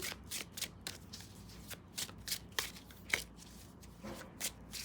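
Tarot cards being shuffled close up, a quick run of soft papery riffles and slaps in an uneven rhythm, quiet and with no speech over them.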